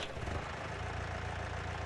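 A tractor engine idles steadily in Farming Simulator 2019, a continuous low mechanical rumble with no voices.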